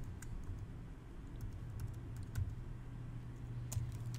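Faint, irregular clicks of typing on a computer keyboard come in small bursts over a steady low hum, with no talk.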